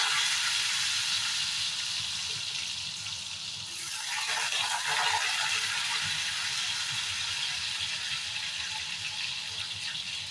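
Diced potatoes fry in hot oil in a wok, giving a continuous soft hiss and sizzle at low volume with a slight surge around the middle.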